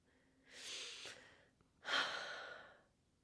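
Two slow, audible breaths, a longer inhale followed by a stronger exhale, close and quiet with no talk.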